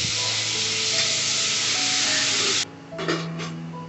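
Tomato dropped into hot ghee with cumin seeds and spices, giving a loud, broad sizzle that cuts off sharply partway through, then quieter bubbling frying with a few stirring scrapes.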